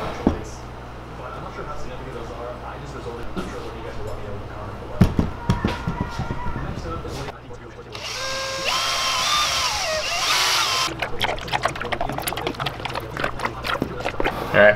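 A drill-powered mixing paddle stirs silicone for a one-piece fishing-lure mold, giving bursts of whirring and rattling that rise to a sustained high spin near the middle, with a person talking over much of it.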